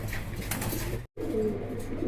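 A lively new fancy pigeon at a wholesale pigeon dealer gives a brief low coo over a steady noisy background, with a short silent gap just before the call.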